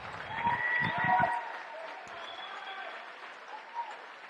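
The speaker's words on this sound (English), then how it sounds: "So the Knights crowd here giving them a good round of applause." Crowd applause for the runner-up Riverside Christian Academy Lady Knights at a 2021 TSIAA girls' Division 1 basketball championship, steady clapping that is loudest early and then eases, with some voices mixed in.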